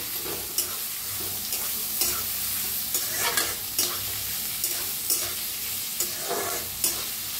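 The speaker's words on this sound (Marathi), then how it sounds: "लसूण आणि हिरवी मिरची बारीक कापून घेतलेली भाजून घेऊया।" Finely chopped garlic and green chillies fry in a pan with a constant close sizzle, broken by regular scraping stirs roughly every half second, with no talking.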